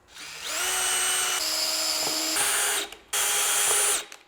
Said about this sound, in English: Step 1 is to drill the holes for the PVC pipe stand.